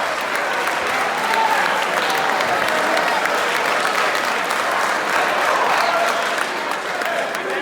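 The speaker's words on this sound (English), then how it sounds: "you need to give yourselves a round of applause for that" A crowd of graduating high school seniors applauds steadily throughout, a dense, even wash of clapping with no break and no voices standing out.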